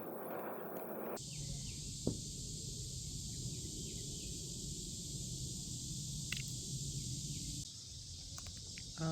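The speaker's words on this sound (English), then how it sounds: "Now the cicadas are going off, and they sound kind of loud" Loud, steady high-pitched buzz of cicadas going off outdoors, a dense continuous drone holding throughout with a faint tick or two.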